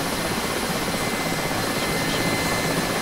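Engines of a Mil Mi-8 MTV helicopter in the DCS flight simulator run steadily, a dense, loud, unbroken roar with a faint high whine on top and no speech.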